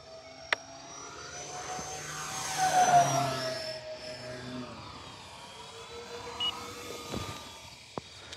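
An E-flite EC-1500 V2 twin-motor RC airplane with a 1.5 m wingspan takes off again after a touch and go; the motors' whine swells and sweeps past overhead, then fades, with a few faint knocks nearby and no speech.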